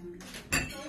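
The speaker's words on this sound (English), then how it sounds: "Fork, spoon, washing." Forks and spoons clink against dishes during washing, a short burst of metal-on-ceramic rattles with one louder clatter midway, close by.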